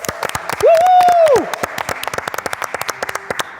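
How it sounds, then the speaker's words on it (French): A small group claps to welcome a butler named Henri during a comedy dinner game. The claps are sharp and close, with a loud whoop or cry over the first half, and the clapping continues unevenly after it fades. "Je vais vous demander de l'applaudir, on va pouvoir accueillir un majordome du nom de Henri."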